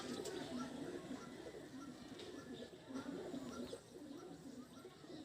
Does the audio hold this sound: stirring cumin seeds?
no